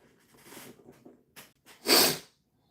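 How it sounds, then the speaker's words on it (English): A person sneezes once, loud and close, after a few quieter breaths and sniffs. "it's unusual that I sneeze"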